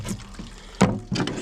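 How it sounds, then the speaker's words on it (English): Water running from a tap into a bowl set down for cleaning whiting fish, soft trickling broken by a couple of louder splashing gushes, close and brief with no talking. "Run me a little bit of water right here"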